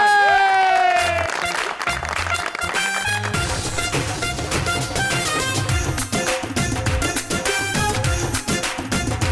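Studio audience applause on a Pakistani TV talk show welcoming guest Fatima Ahmed Khan, a dense, steady wash of clapping mixed with loud show music and a voice in the first seconds.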